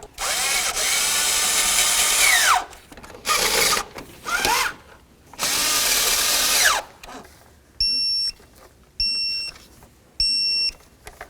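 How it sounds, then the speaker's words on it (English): Thermostat housing mounting bolts on a Jeep Compass engine being run down with a power tool in several loud whirring bursts, followed by a torque wrench's repeated electronic beeps, close by. "Once all three of your mounting bolts are started, snug them up and then torque them to 159 inch-pounds."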